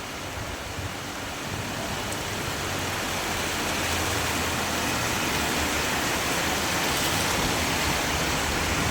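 Floodwater rushing through College Road in Barnala, past raised shopfronts, a dense, steady roar of moving water that swells slightly and holds loud throughout.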